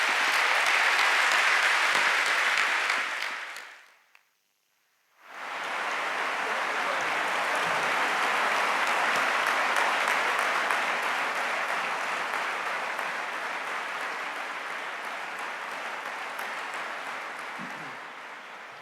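An audience at an evening talk on why there is something rather than nothing applauds its two speakers in sustained, dense clapping, broken by a brief near-silent gap before the applause resumes and carries on to the end.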